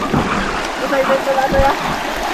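A stream rushes and burbles continuously close by, with a faint tonal whine and soft background voices mixed in.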